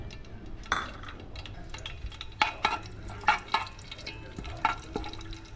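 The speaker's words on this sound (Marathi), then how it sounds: "तेलामध्ये आपल्याला जिरी शिजून घ्यायचं आहे" Cumin seeds fry in oil for a homemade prawn biryani under a low, steady sizzle, with a few spaced scraping and clinking stirs of a spoon against the pan.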